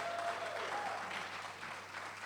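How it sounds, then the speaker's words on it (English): Audience applause at a panel talk fills the whole stretch, a steady dense wash of clapping from a seated crowd with no break, moderately loud and not far off. "please give a round of applause for Grace, because this is amazing."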